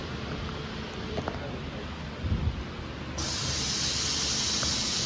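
An LH300L perfume making machine's compressor switches on partway through, adding a loud, steady high hiss over a quieter background hum that continues to the end.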